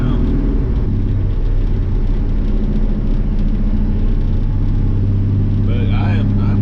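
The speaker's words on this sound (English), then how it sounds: "just hopped in it, started it up, and we're driving" A car's engine runs steadily while driving after a fresh start, with a continuous low rumble and whir throughout, and a brief bit of talk near the end.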